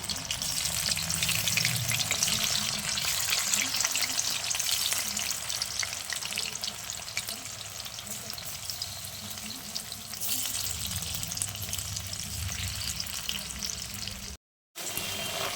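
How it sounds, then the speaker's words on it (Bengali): Steady, loud sizzling of baby corn frying in hot oil, continuous crackle throughout with a brief dropout near the end. "এবার আমি বেবিকর্নগুলোকে তেলের মধ্যে ভালো করে ভেজে নেব।"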